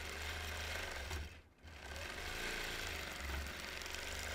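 A sewing machine runs free-motion quilting in an orange peel pattern over bulky seam intersections, a loud, steady, close mechanical hum that briefly dips near the middle before resuming at full speed.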